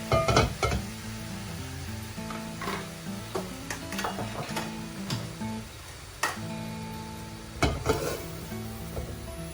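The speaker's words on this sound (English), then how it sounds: "I'm going to use another pan to cook the noodle" Noodles for spicy mee siam cooking in a pan, with sharp clicks and clatters of utensils against the pan over faint sizzling, irregular knocks spread throughout at moderate, close range.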